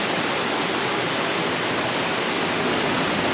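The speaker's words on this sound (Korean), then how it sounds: "나무가 뒤덮인 계곡 사이로 요요히 이렇게 흘러내리고 있고요" Water of a mountain stream flowing steadily through a mossy, tree-covered valley on a forest trekking trail, a continuous broad rushing wash that holds steady and close throughout, with no voices.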